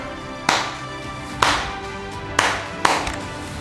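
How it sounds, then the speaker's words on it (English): Four sharp, separate claps ring out in a classroom, spaced about a second apart with the last two closer together, each crisp and close with a short room echo. "When I clap 4, you clap 4"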